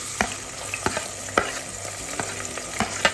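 Chillies and onions frying in hot oil in a pressure cooker, a steady close sizzle punctuated by sharp clacks of a spoon stirring every half second or so.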